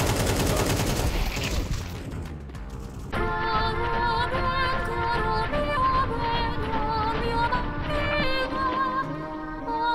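AK-47 fire in the video game Counter-Strike 2: loud, dense bursts of rapid automatic shots, breaking off briefly before music-like tones join the gunfire for the rest of the stretch.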